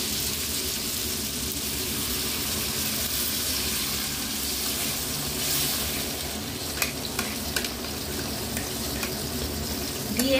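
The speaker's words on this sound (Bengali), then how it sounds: "এইবারে আমি জল দিয়ে দেব।" Fish masala for macher murighonto sizzles and is stirred in a pan on a gas stove as water goes in, a steady broadband hiss with a few sharper clicks and a louder burst near the end, no voices.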